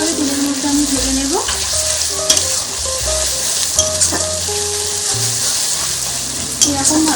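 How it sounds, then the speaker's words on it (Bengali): Garlic frying in hot oil for a Bengali mutton curry, a loud steady sizzle with repeated scraping stirs of a spatula against the pan and brief clinks throughout. "এবার রসুনটা ভালোভাবে তেলের মধ্যে আমি ভেজে নেব।"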